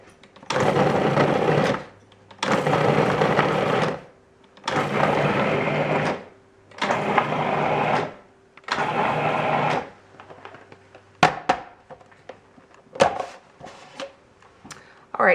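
Five pulses of a food processor cutting butter into pastry dough for rugelach, each a loud whirring burst of about one and a half seconds with short pauses between, followed by clattering handling sounds.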